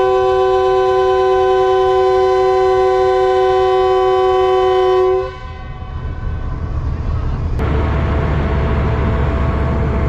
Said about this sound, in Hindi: तो ये तकरीबन हम 3 मिनट हॉल्ट करने के बाद निकल रहे हैं टंडो आदम जंक्शन रेलवे स्टेशन से